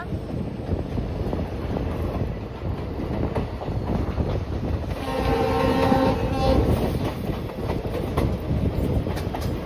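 The 16548 Yesvantpur Express, hauled by a WDP-4B diesel locomotive, rumbles steadily into Agri Bommanahalli railway station with rattling and wind noise, and a horn sounds briefly midway.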